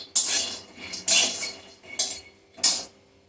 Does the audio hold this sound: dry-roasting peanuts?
yes